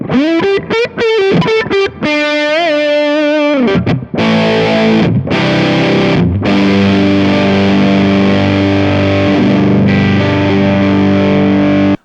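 An electric guitar through a Kemper profiling amp using an Electro Harmonix Big Muff fuzz profile, set to low drive and a medium tone, plays thick, buzzy, sustained fuzz chords and notes, loud and alone, with a few abrupt stops between phrases.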